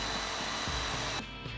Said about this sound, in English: we can use a spade bit to match the diameter of the dowel and drill into our sonotube